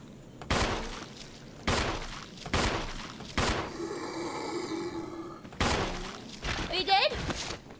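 Gunshots in Resident Evil, the original game, fired in several sharp loud bursts spaced a second or so apart, with game ambience and a ringing tone between shots; a player talks over parts of it.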